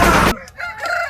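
A fighting rooster that won a cockfight at a Sankranti festival crows loudly and close for a fraction of a second, then cuts off, leaving faint clucks and distant noise.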